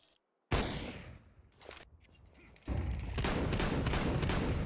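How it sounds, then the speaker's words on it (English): Auto shotgun blasts in a competitive shooter match, a loud opening shot with a reverberant tail, scattered shots and scraping sounds after it, then a dense sustained volley near the end. "Fame getting a little silly with this, with the auto shotgun"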